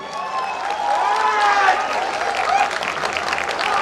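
Loud, steady applause from a festival audience at an outdoor stage show, with cheering voices and music tones mixed in throughout.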